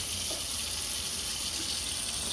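Tap water pouring steadily into a bowl for a cat, a constant hissing rush of moderate loudness with no voices.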